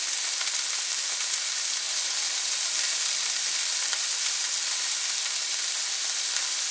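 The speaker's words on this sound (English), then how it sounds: "Now normally I put a splatter guard on these so you don't get that popping and splatter" Goose stir fry sizzling steadily in a pan with no splatter guard, a constant bright frying hiss running throughout with occasional small pops and no talking.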